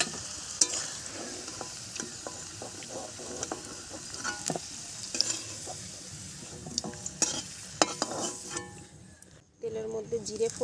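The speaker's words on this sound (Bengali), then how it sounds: "তেলের মধ্যে জিরে ফোড়ন দিলাম, জিরে দিয়ে পেঁয়াজ দিয়ে দিলাম" Cumin seeds and onion sizzle in hot oil in a village-style kitchen, a soft, steady frying hiss punctuated by sharp scraping clicks from stirring with a spatula against the pan.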